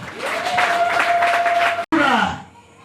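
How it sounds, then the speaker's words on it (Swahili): A church congregation claps together in a dense, steady wash of applause, with a sustained organ-like tone underneath. The clapping breaks off abruptly, then resumes briefly and fades. "Pigie Bwana makofi."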